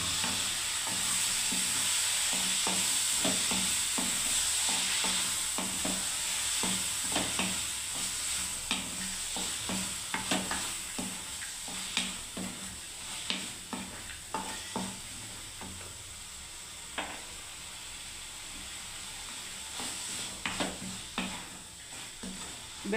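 Bottle gourd and soaked chana dal fry in a spiced masala with a constant bright sizzle, while a utensil scrapes and taps the pan in irregular stirring strokes.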